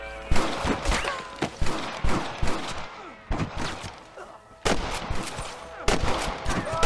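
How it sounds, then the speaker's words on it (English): Gunfire crackles in the video game Red Dead Redemption, a rapid series of loud, sharp shots in irregular volleys with echoing tails, close and dense throughout. "Damn fine shooting, boys."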